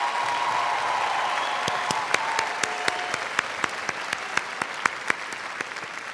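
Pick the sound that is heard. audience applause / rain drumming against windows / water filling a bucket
audience applause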